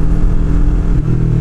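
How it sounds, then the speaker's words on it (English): A Yamaha R3 fitted with a slip-on exhaust, its engine rumbling loudly and close during a downshift, with a small crackle from the exhaust. "Downshift in the first again, so you can really hear that little pop it gives you"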